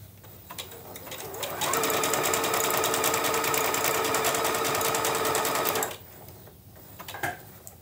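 Sewing machine running steadily for about four seconds, stitching fabric for a cloth bag appliqué, a rapid even mechanical whir with quieter clicks and presser-foot handling before and after.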